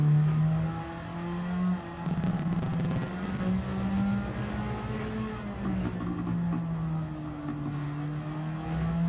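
Race car engine in Gran Turismo 7 drones steadily throughout, a loud sustained tone shifting pitch as the car brakes and accelerates through a pair of corners, with no speech.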